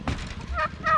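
Turkeys gobble in short warbling calls, close by, with a brief scuffle of birds at the start.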